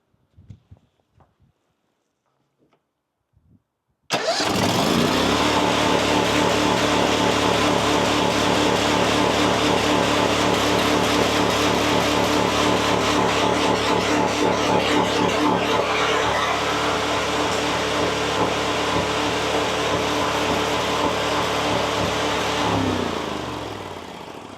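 After a few seconds of quiet clicks and handling noises, a Briggs 23HP EFI engine starts and runs loud and close at a high, steady, over-revving pitch for about twenty seconds before winding down.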